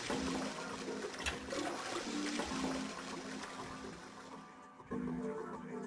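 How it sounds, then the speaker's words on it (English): A toilet flushing in the Nintendo DS game 999: Nine Hours, Nine Persons, Nine Doors, a steady rushing watery surge that fills the clip, briefly dipping near the end before swelling again. "I heard a loud flushing noise."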